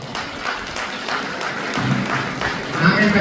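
Audience applause fills a hall at a dance recital, a steady wash of clapping running the whole time with a faint voice mixed in and a louder swell near the end.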